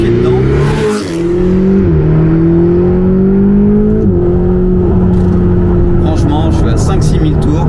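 A Ferrari 488 GTB engine revs close up, its pitch climbing and dropping in several surges to around 5,000-6,000 rpm before holding a high, steady roar.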